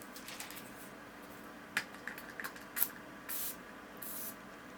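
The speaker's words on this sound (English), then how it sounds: "So there's the spray. So let's test out the mister." A makeup setting spray mister fires a few short, sharp puffs of mist close by, separated by quiet pauses in an otherwise hushed room.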